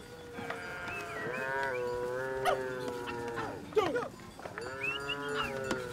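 Cattle lowing at a cattle camp in South Sudan as the herd heads out to graze, several long, deep moos overlapping one after another, close and loud against a busy outdoor background.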